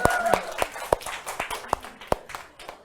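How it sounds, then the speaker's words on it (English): A small audience gives a brief, light round of applause, with a few sharp separate claps spread over about three seconds rather than a full ovation. "Let's give them a round of applause."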